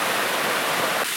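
A waterfall in a mountain gorge roars as a steady, dense broadband rush, loud and close, with no voices over it.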